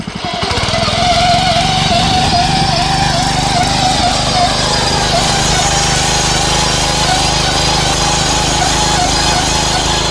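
A loud, steady, high-pitched buzz from the engine of the world's smallest tractor, a tiny farm machine used in hill farming, revving continuously up close without pause.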